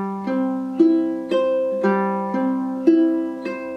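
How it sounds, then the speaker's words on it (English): Close-up ukulele fingerpicking, plucking down from the fourth string to the first in an even repeating four-count rhythm, each note bright and ringing over the next, nearby and alone without speech. "The second pattern up close looks like this."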